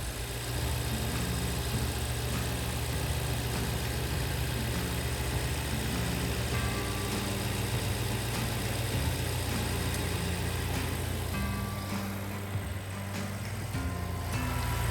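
A BMW M6 engine idles steadily and loudly up close, a continuous low rumble with an even mechanical drone throughout.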